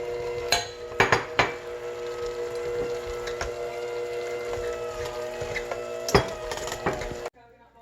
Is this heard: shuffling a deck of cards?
no